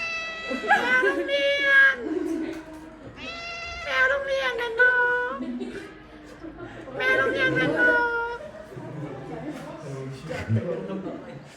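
A cat meows in a long series of drawn-out, talkative calls, three main bursts close to the mic with short gaps between, some rising into yowls.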